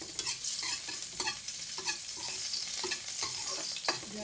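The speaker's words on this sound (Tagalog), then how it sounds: "Mag-gisa-gisa na po tayo. Unahin po natin ang bawang." Garlic and onion sauté in a hot pan while being stirred, a steady sizzle broken by rhythmic scraping strokes of the utensil, close and moderately loud, with no voices.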